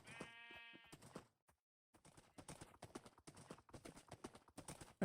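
A horse in the Minecraft video game clip-clops along with quick, regular hoof clicks, preceded by a short harmonic animal call and a brief silence.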